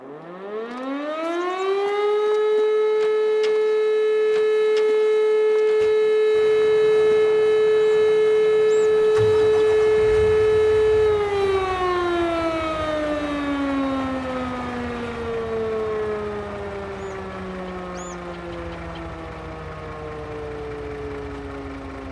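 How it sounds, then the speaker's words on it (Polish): A civil defense siren is switched on, its tone winding up steeply, holding a loud steady wail for several seconds, then slowly winding down in pitch as it fades, with a faint engine-like hum beneath. "Trzeba włączyć syrenę."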